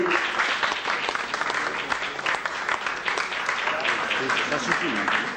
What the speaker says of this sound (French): Voilà, vous pouvez applaudir.